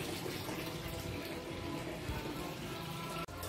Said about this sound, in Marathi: मी पाणी भरतो